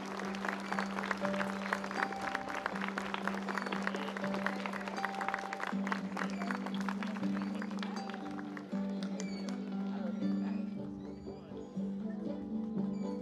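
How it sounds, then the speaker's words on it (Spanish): A crowd at an outdoor Flag Day ceremony in a neighbourhood plaza in Villa de Merlo claps steadily and densely, while a sustained musical tone plays beneath and the clapping thins toward the end. "Fuerte el aplauso para todos"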